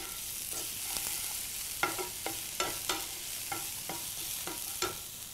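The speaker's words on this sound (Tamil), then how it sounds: "இப்போ இந்த வெங்காயம் பாருங்கள் ஓரளவுக்கு வதங்கிடுச்சு." Chopped onions sautéing in a pan for tomato gotsu, with a soft, even sizzle under repeated light scraping taps of a spoon stirring them.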